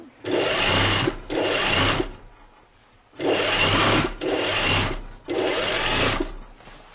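A sewing machine stitches and overlocks a seam on a jacket sleeve, loud rapid whirring bursts in four runs of about one second each, separated by short pauses.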